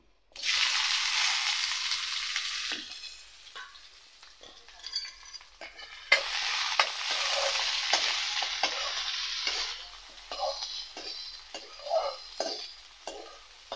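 Mustard seeds and onions fry in hot oil in a village kitchen, a steady loud sizzle that flares twice, with a spoon scraping and clinking against the pan and no talking.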